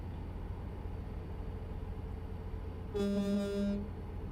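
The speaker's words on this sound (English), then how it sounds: "I like the horn on this truck." Truck horn in American Truck Simulator sounding one loud, steady blast of nearly a second over continuous engine and road rumble, briefly dipping and resuming before cutting off.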